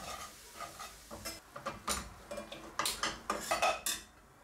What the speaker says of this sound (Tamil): இந்த மைதா மாவை நல்லா வாசம் வர வரைக்கும் வறுத்துக்கிறேன்